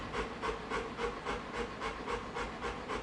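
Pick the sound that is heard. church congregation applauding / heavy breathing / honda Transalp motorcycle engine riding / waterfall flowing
heavy breathing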